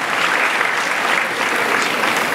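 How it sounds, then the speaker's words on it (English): Dense, steady clapping from a comedy show audience fills the whole stretch, loud and continuous with no pauses and no voices on top. "Can we give them a round of applause?"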